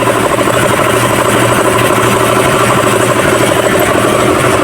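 A Hyundai Tucson CRDI diesel engine idles continuously, steady and loud with a deep rumbling drone and no voices, holding an even level throughout.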